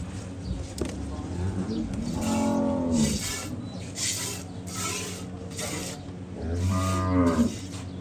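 A female calf moos twice, two drawn-out low calls a few seconds apart, close by against background noise.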